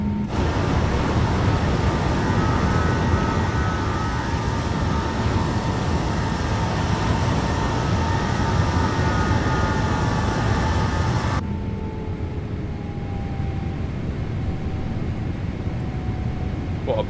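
Asiana Boeing 777 engines at full takeoff thrust in Microsoft Flight Simulator 2024, a loud, steady broadband roar with a whining tone that suddenly drops to a softer, darker rumble with faint tones near the end.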